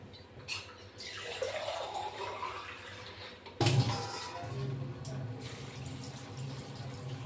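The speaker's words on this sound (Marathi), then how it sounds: "अजून 1 ग्लास पाणी टाकून घेऊ" Water pours steadily into a metal pressure cooker, with a sharper splash midway as the flow picks up, over a low background hum.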